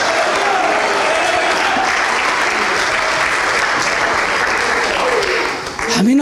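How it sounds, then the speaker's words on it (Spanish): A church congregation applauds in a dense, sustained wave of loud clapping that holds steady for about six seconds, with a raised voice rising over it near the end. "Adore a Dios, pues. ¡Aplausos!"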